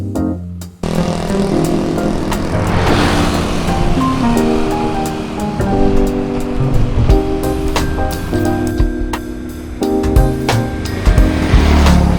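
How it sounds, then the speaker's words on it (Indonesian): Machinery roars inside a tea-leaf processing factory, a loud continuous drone with layered mechanical hums and clattering tones that shift as it runs, with no voices. "Suara mesin menderu dari dalam pabrik ini."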